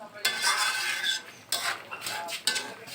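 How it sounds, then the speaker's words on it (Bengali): Potatoes and kohlrabi being stirred in a pan for a fish curry, a utensil scraping and clattering in several close bursts with faint sizzling between them. "নাড়াচড়া করতে করতে এই আলু আর ওলকপি একেবারে মাখা মাখা হয়ে যাবে"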